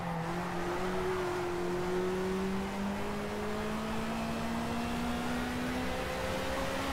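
A BMW 2002 racing car in the Project CARS video game, its engine droning steadily and rising gradually in pitch as it accelerates through a corner, with no talk over it.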